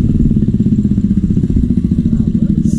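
Motorcycle engine running nearby with a steady mid-pitched rumble and clattery pulsing, continuous throughout, with voices talking over it.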